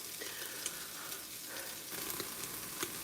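Onions and garlic cooking down in a soup pot, a steady close hiss of sizzling with small crackling pops throughout, no voices.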